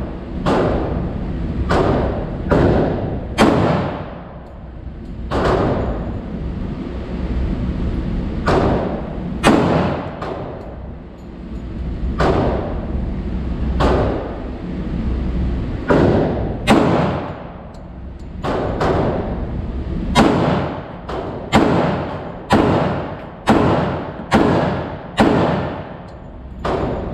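A Glock 19X pistol fired outdoors: loud, sharp shots come in irregular bursts, some singly and some in rapid strings, each followed by a brief echo.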